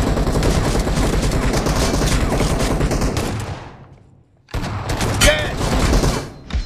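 A long burst of sustained automatic gunfire in BGMI, loud and dense for a few seconds, falling briefly silent, then resuming with more shots and a metallic ring.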